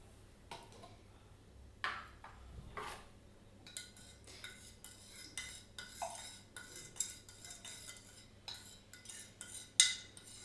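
A spoon repeatedly taps and scrapes in a container of ceramic engobe slip while it is stirred, giving quiet, irregular clinks and ticks close by with no talking.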